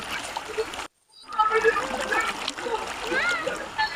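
Floodwater in a flooded stream between submerged fields rushes and splashes steadily, with a brief dropout, while children's voices chatter over the flow.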